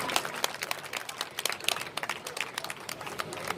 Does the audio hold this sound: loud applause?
yes